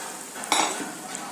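Peas stirred into boiling masala in a pan make a brief scraping stir over a constant, close bubbling sizzle, with no voices.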